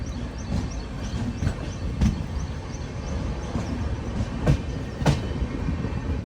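The Hazrat Nizamuddin–Madgaon Rajdhani Express pulls in at Thivim station on the Konkan Railway, a steady rolling rumble broken by sharp wheel clacks at uneven intervals, near and loud.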